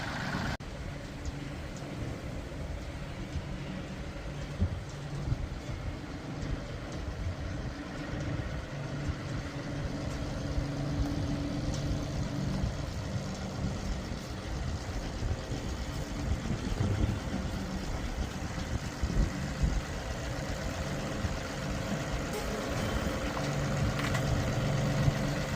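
A farm tractor idles and hums steadily while nudging a wagon into a shop, its mid-pitched engine drone running continuous and fairly close throughout with light rattles and no talk.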